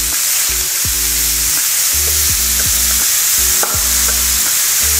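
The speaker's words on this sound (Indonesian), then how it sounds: "Kalian nunggu minyaknya panas, baru masukin semua bumbunya." Spice paste of ground chilies, shallots and garlic sizzling and frying in hot oil for dendeng balado, with a steady loud crackle and rhythmic scraping strokes of a spatula stirring in the pan.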